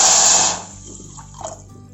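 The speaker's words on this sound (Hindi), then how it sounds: "300 ml करीब पानी डाल रही हूँ।" A short burst of water pouring noisily into a pan of sugar for syrup, stopping after half a second, followed by faint clinks and quiet room sound.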